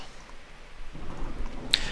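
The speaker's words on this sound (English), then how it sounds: "So this is heavy rain with thunder." Steady heavy rain in the video game Miscreated hisses as a low thunder rumble swells midway, with a brief sharp crack near the end, no voices present.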